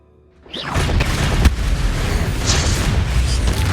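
A Bombarda spell explosion in Hogwarts Legacy, played on Xbox Series X|S: a loud booming blast erupts after a brief quiet, then a sustained rumbling roar follows with a sharp crack partway through, all close and dense without any speech.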